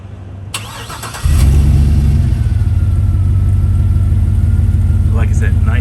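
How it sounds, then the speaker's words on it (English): A 2008 Hummer H2 SUT fires up by remote start, with a sharp crank and catch followed by a steady, loud, deep exhaust rumble settling into an even idle. "I'll use the remote start so you can hear the exhaust"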